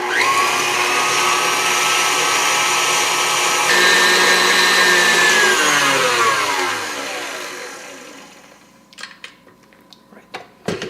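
An electric mixer beats butter and sugar for a German cheesecake, giving a loud, steady whirring motor drone whose pitch shifts partway through. It winds down near the end, followed by a few light clinks.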